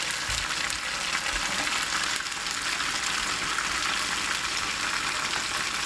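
Dumplings fry and caramelize in an oiled pan, a dense, even sizzle with a constant bright hiss and a few soft knocks as the pan shifts on the burner.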